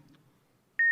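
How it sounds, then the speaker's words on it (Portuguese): A single sharp electronic beep marks the end of the allotted time in a Brazilian television interview, sounding as a loud steady tone after a near-silent pause. "O senhor ouviu o bip, acabou o nosso tempo, infelizmente."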